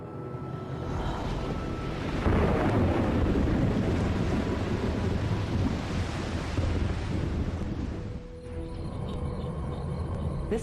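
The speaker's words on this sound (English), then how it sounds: "ocean planets that are completely covered with water" Ocean surf rolls and crashes steadily across a water world, a broad continuous wash of waves with wind, loud and close, shifting to a calmer swell near the end.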